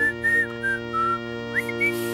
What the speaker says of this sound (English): there was a circus calf named Wilburifico who loved to whistle